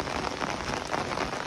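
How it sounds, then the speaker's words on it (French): Heavy rain pours down outdoors, a dense, loud, unbroken hiss of drops striking surfaces, close and steady with no voices. "là il pleut. Il pleut comme vache qui pisse là."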